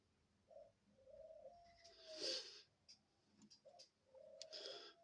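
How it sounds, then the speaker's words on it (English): Several pigeons coo softly at a bedroom window while being fed seeds, with a few quiet repeated calls separated by short gaps and faint tapping and rustling between them. "these are my window pigeons that come to my window every morning"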